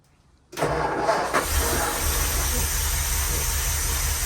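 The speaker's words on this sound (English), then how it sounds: "Give it a little throttle, Les." A 1948 Ford V8 Pilot engine cranks and catches after a moment of near silence, then settles into a loud, steady, close idle with a rough mechanical texture.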